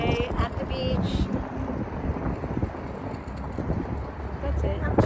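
Beach wind buffeting the microphone, a rough, fluctuating low roar with gusty surges, while someone talks over it.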